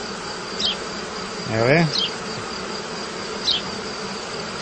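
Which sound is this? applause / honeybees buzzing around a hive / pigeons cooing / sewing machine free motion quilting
honeybees buzzing around a hive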